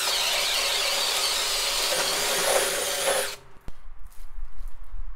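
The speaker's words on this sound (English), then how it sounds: "with the brand new, just out of the box, 3/4-inch ship auger. So we're gonna do a hole, we're gonna try on high first" A cordless drill with a new 3/4-inch ship auger bit bores a hole in wood with a loud, steady whining grind that cuts off abruptly partway through, leaving quieter clatter and handling noise.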